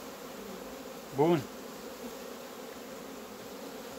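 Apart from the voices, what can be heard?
bees buzzing from a honeybee colony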